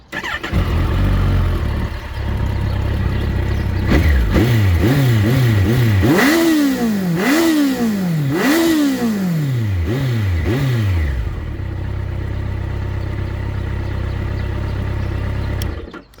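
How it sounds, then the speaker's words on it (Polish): A Kawasaki GTR motorcycle engine cranks and catches, then revs up and down several times in rising and falling surges before settling back to a steady idle. "I w tym momencie motocykl jest gotowy do odpalenia."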